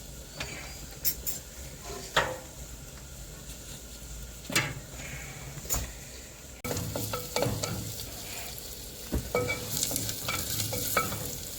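Onions frying for a traditional mutton curry, a soft steady sizzle with occasional scraping and clinking stir strokes, fairly quiet and close, with no talking.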